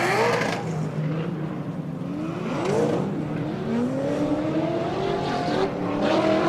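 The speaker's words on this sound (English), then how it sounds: "as he just tries to burn off the last bit of tires" A drift car does a tire-burning burnout at a drift challenge event, its engine revving loudly while the tires squeal and slide in long, wavering tones that run continuously from start to end.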